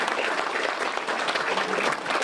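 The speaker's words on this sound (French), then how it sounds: "On les applaudit bien fort" Applause from a gathering at a war memorial during an evening remembrance ceremony, honouring the young people who took part; steady, dense clapping runs unbroken through the whole stretch at moderate loudness.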